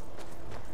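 A couple of quick horse hoof clops from the video game Skyrim sound over a steady, dense background noise, brief and fairly close.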